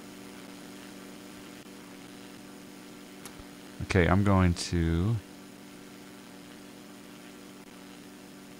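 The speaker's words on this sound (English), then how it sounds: "The engine doesn't sound right, to be honest." The engine of a Pipistrel Panthera aircraft in X-Plane 11 drones in a steady, even hum throughout, and someone speaks briefly over it midway.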